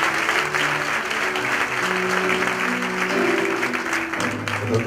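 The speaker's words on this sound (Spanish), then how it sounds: "Un aplaudiment per ell, sisplau." A concert audience at a tribute concert claps for the accompanying maestro, sustained, loud applause with sustained musical tones sounding beneath it throughout.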